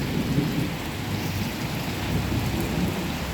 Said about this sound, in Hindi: बहुत तेज़ बारिश आप भी देख सकते हो।